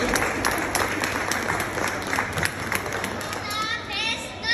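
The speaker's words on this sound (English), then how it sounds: "let's give a big round of applause to our wonderful teachers and parents who made this event possible" Applause and cheering from parents and children at a preschool costume presentation event, a busy crowd wash of clapping mixed with children's chatter and voices throughout.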